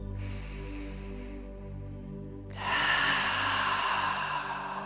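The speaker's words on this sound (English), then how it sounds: "Breathe in, breathe out." A deep breath out during a live mobility and flexibility stretching class, a close, airy exhale swelling after a quieter stretch, heard over a steady low hum.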